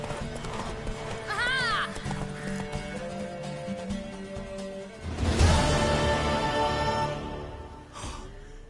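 A horse gallops in The Witcher 3 race, hooves clip-clopping steadily close by, a whinny rising partway through, then a louder surge of hoofbeats and commotion; a voice briefly exclaims.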